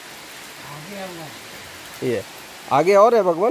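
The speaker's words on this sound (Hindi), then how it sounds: "ऐसे ही पानी टपकता रहता है यहाँ पर।" Steady hiss of water dripping and falling like rain at the Amori Dhara waterfall site, forming a constant wash throughout while someone speaks over it in bursts.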